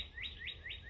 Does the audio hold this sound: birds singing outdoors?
yes